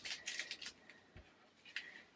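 Scissors cutting through plastic bags and packaging from a diamond painting kit, a few quick crisp snips and crinkles followed by a soft thump, close and quiet, with no talking.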